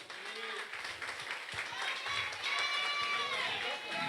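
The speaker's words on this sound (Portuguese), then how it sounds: "Aplauda o Senhor" A church congregation at an evangelical service applauds in a soft, scattered patter of clapping, heard faintly beneath a voice talking.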